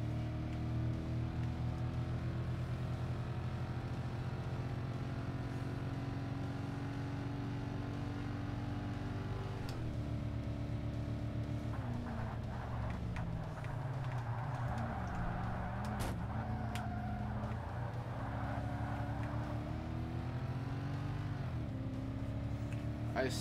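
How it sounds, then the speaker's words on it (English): A racing car engine in the video game Forza Motorsport drones and revs continuously, pitch rising and falling through gear changes, steady and loud throughout. "Certainly sounds fun, this car."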